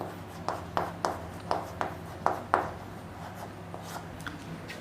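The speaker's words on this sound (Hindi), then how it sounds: "तो अब लिखेंगे प्रतिरोध" Chalk or marker tapping and scratching on a board during a science lesson, a series of short, sharp strokes in an uneven rhythm, close and fairly clear with no speech over it.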